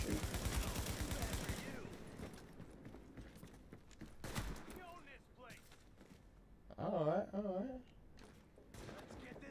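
Gunfire in the video game The Division, a short burst of rapid shots up front followed by scattered bangs and game noise, with a voice speaking briefly under it.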